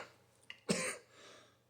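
A single short cough or throat clear from one person, close and fairly quiet, one sharp burst with a faint tail and nothing else around it.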